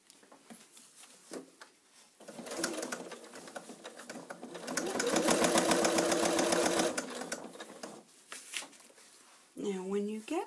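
A sewing machine runs in bursts while stitching the side seam of a fabric getaway bag, a slower steady run in the middle and shorter runs around it, with a voice speaking over parts of it.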